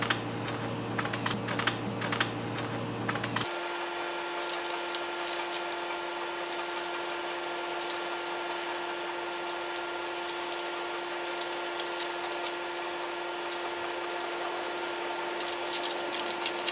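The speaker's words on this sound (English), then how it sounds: "Now we can cut this. So now we will be cutting this." A paper dress pattern being cut out, giving a dense, steady stream of crisp snipping and rustling ticks over a constant low hum, close and fairly quiet, with no talking.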